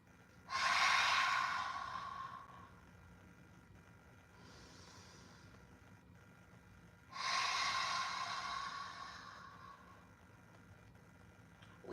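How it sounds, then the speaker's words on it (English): Deep breaths during a gentle morning yoga session, two long loud inhales through the nose, each followed by a softer exhale, with quiet pauses between. "Take a deep inhale. Through your nose. Exhale, open mouth."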